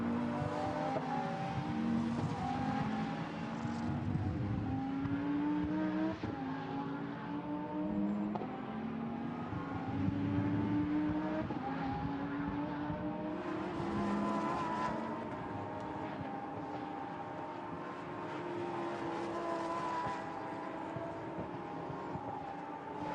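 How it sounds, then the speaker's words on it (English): Lamborghini Super Trofeo race cars run at the Nürburgring in a 2020 European series race, engines screaming and rising through gear changes in repeated sweeping pitch climbs, loud and continuous, with no voices over them. "There going through is the Oregon team car in 3rd place"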